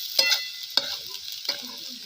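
Fried onion pushed aside in a sizzling pan while making egg bhurji: three distinct scraping strokes of a utensil over a steady, close sizzle, with no talking.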